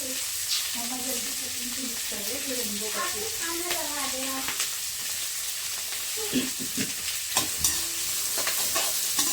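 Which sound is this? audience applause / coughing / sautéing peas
sautéing peas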